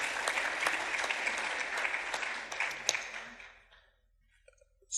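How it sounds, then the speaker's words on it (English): A meeting audience gives colleagues a round of applause, a dense, even wash of many hands clapping that carries for several seconds, then fades quickly into near silence with a faint sound at the very end. "So I think we should give them a round of applause."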